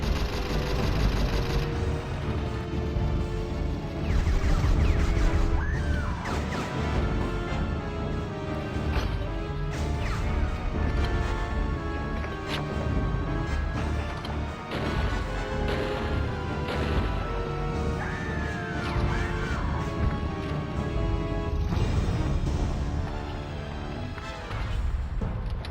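Units firing in the video game Ring of Red, a dense continuous barrage of crashing shots and impacts over a steady mechanical rumble and game music, loud and sustained throughout.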